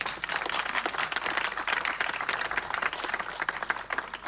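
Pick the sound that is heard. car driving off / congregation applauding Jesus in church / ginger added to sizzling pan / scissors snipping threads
congregation applauding Jesus in church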